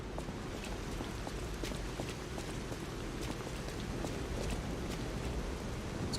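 Steady rain falling in the video game Lies of P, a continuous hiss with scattered droplet ticks, even and unbroken throughout.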